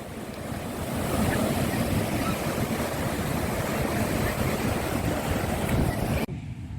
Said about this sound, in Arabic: هنايا حدا البحر،